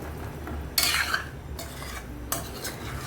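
Chicken frying in a pan as it is stirred, with three sharp bursts of sizzling scrapes over a low steady background hiss.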